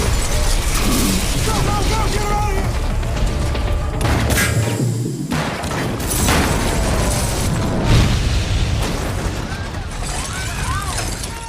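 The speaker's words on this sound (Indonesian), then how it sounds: "Ad menembak ke arah tabung gas yang membuat Biggie mati terkena ledakan." A gas cylinder explosion in the film Project Power: a loud, booming blast rips through a dense, continuous wall of cinematic noise and effects, with a deep low rumble swelling midway through.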